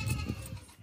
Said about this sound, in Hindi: बहुत ही प्यारी और खूबसूरत बीतल बकरी है